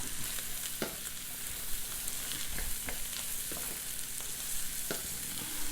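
Onions frying with bacon in a pan for French-style dirty fries, a constant dense sizzle and crackle with occasional soft pops and stirring taps throughout.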